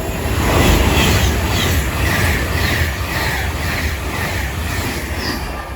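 A West Coast service train rushes through Watford Junction station on the West Coast Main Line, a loud, sustained roar of wheels on rail with rhythmic clatter and faint squeal, fading slightly toward the end.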